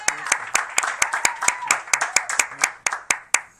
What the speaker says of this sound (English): A round of applause for Olga